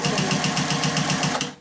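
A sewing machine stitching a cloth menstrual pad runs in a fast, steady, evenly pulsing whir for over a second, loud and close, then abruptly winds down and stops.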